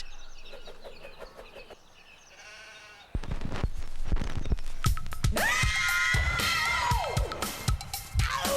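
Cartoon sheep bleat a cheer in a children's animated show, following a stretch of quieter music; a loud burst of rhythmic, sharp bleats and cheering voices plays, with some rising and falling cries.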